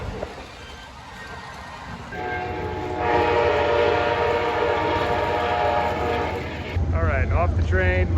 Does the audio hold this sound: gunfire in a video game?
no